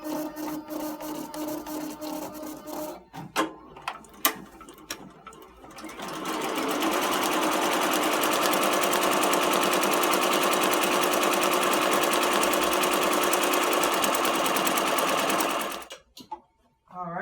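An embroidery machine stitches a design onto a shoe held in a robot frame, starting with a few clicks and short bursts, then running a loud, steady, rapid needle clatter for about ten seconds before stopping.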